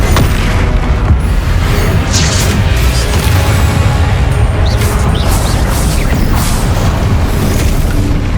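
Spell combat in the video game Hogwarts Legacy, including Confringo fire blasts: loud, continuous booming explosions and crashing impacts layered into a dense roar with scattered sharp bursts throughout.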